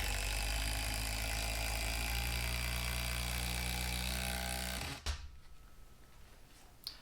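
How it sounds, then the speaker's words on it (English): A Festool TID18 impact driver runs a screw in one steady, loud whirring-hammering burst lasting about five seconds, then stops abruptly, leaving faint room noise and a small click. "Now here's the Festool TID18."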